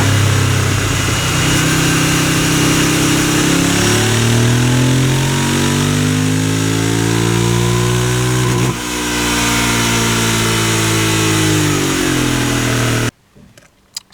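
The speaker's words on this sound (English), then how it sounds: "we're going to be doing the dyno run" A Royal Enfield Continental GT 650 fitted with an aftermarket air filter and camshaft revs hard on a dyno, its twin-cylinder engine climbing steadily in pitch through the gears. It roars loud and close, dips briefly at a shift, climbs again, then cuts abruptly to near silence.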